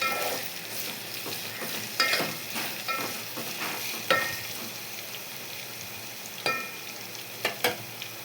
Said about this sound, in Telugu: యాడ్ చేసుకొని ఇట్లా కలుపుకోవాలి.